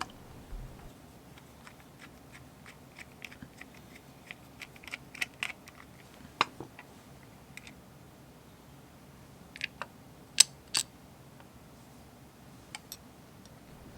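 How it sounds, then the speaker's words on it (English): Screwdriver turning and loosening the grip screw of a Ruger single-action revolver, a sparse series of small, close metallic clicks and ticks spread irregularly over a quiet background. "Insert the screwdriver into the slot and begin loosening."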